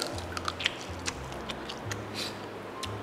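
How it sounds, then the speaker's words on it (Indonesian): A small fish cooked in a yellow spice curry base is chewed bones and all, giving soft, close crunching clicks at irregular intervals over a low steady hum, with no talking. "Aku kunyah lah sama tulangnya."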